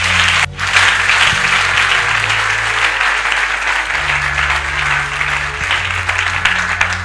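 A church congregation applauds loudly for Jesus during a sermon, with sustained, dense clapping close by. A low steady hum runs beneath it.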